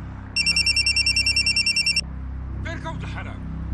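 A telephone rings in a rapid electronic trill, a series of quick pulses for about two seconds, then a voice speaks over low background noise.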